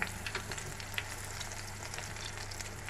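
Battered cauliflower florets deep-frying in hot oil, a steady soft sizzle with faint crackles and small pops, low and even throughout with no talking.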